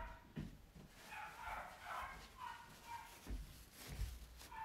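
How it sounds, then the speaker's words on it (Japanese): Dogs barking and scuffling in a home kitchen while bread dough is being rolled, with repeated sharp yips and barks at moderate distance in a fairly noisy room. "もう犬喧嘩よ喧嘩。"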